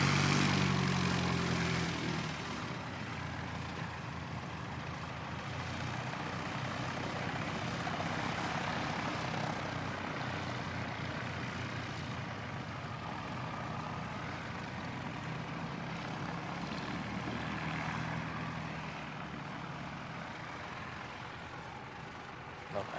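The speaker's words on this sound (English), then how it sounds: "ATR inbound from Nelson" An ATR turboprop airliner arriving from Nelson at Christchurch Airport gives a steady, broad engine and propeller drone at a moderate distance, holding level and unbroken for over twenty seconds.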